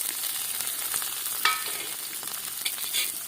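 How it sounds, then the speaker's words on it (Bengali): Onion, garlic and dried red chilli frying in hot mustard oil, a steady close sizzle with occasional stirring scrapes and a few sharper crackles, no voices. "তেল ভালো করে গরম করে নিয়েছি। পেঁয়াজ,"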